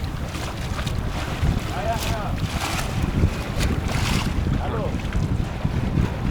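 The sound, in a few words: strong wind on a felucca on the Nile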